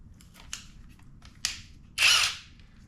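Seesii WH700 3-in-1 impact tool tightening a fastener, with two short buzzing bursts followed by a longer, louder hammering rattle, close and alone.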